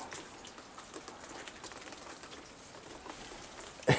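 Heavy rain falling on a Sunday night with wind, a dense, steady patter of drops on surfaces, close and continuous, ending with a brief louder bump.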